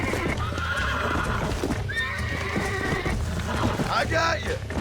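A horse in Red Dead Redemption whinnies loudly over steady clip-clopping hooves, with game wind and ambience behind and someone talking over parts of it.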